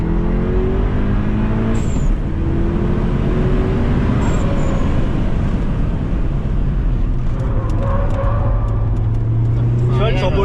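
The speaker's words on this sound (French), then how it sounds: "Tu vois le turbo lag." A sports car, one of a group including a BMW M140i, Golf 7 GTI, Ibiza Cupra and Leon FR, accelerates with turbo lag, heard as a loud, constant engine and road roar inside the cabin with people talking over it.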